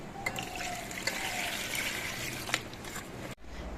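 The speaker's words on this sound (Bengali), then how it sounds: "কেটে নেওয়ার আগেই আমি ধুয়ে নিয়ে নিচ্ছি" Okra being rinsed in a bowl of water, with steady splashing and sloshing close by and a few sharper splashes, ending in a brief pause.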